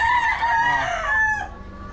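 A golden boy sweater gamecock crows once, loud and close, one long drawn-out call fading at the end.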